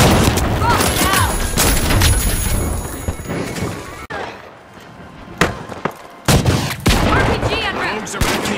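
Rocket launcher blasts and explosions from the video game The Finals boom loudly amid dense gunfire. A brief quieter lull comes before more sharp bangs, and an announcer's voice talks over the action.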